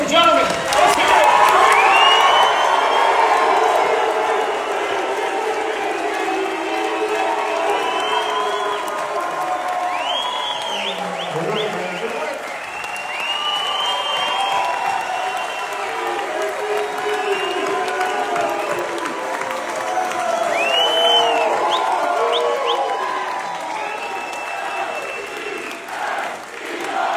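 A crowd cheers, whoops and claps continuously for a guest at a sports celebrity event, loud and sustained, with shouting voices mixed through the applause.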